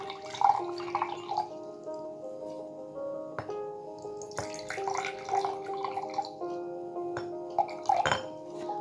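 Water poured into a container during a vacuum candle experiment, with soft trickling, drips and small clinks against the vessel, fairly faint and steady with no talk over it.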